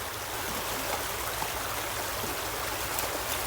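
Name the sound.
stream of water flowing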